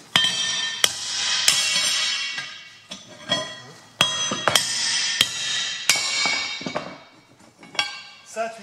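A hammer taps a welded steel test piece from a thick butt weld in a welding workshop, striking about a dozen sharp metallic clinks with irregular spacing, each one ringing briefly.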